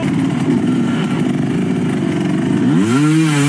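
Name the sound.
enduro motorcycle engine revving on steep climb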